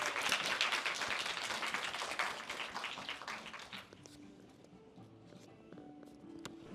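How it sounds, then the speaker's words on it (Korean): Audience applause at a children's policy proposal contest in Dongdaemun, a full round of clapping that fills the first few seconds and then thins out, leaving faint scattered claps and low room sounds. "여러분 힘찬 박수로 응원해 주시기를 부탁드리겠습니다"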